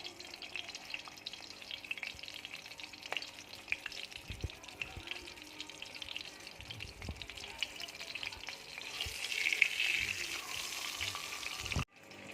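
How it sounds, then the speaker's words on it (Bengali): Onions frying lightly in a pan for keema, a quiet steady sizzle with occasional stirring clinks and scrapes, growing a bit brighter near the end. "দেখো পেঁয়াজটা ভাজা হয়ে গেছে, এইভাবে হালকা করে ভাজবো।"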